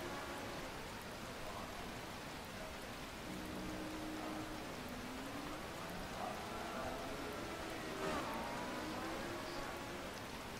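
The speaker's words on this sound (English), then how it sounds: "the rain should stop soon" Rain in the racing game rFactor 2, during a drive in a Matra on damp country roads at Longford, a faint continuous hiss of falling rain over a low, wavering engine note, with someone speaking quietly underneath.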